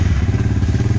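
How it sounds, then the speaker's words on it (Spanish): A Honda RC200 motorcycle engine running close by, a loud, steady rapid thumping idle with a rhythmic low pulse and light mechanical clatter throughout the short clip. "Vamos a encender nuestra motocicleta"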